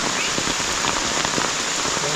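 Heavy storm rain pours down steadily, a dense close hiss of drops drumming on a surface with scattered louder splats, continuous throughout with no voices.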